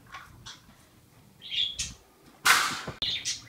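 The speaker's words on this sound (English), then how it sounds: "the bird is fine, he's chirping happy" A pet bird chirps in short, bright bursts indoors, a few scattered calls followed by a louder squawking flurry near the end, close to the listener.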